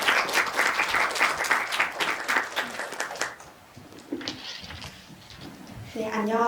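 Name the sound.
applause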